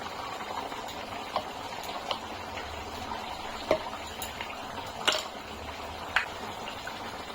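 Thickened paneer gravy bubbles in a pan at a low, steady simmer, with occasional louder pops and blips breaking through the soft, close bubbling.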